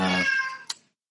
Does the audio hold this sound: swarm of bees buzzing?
no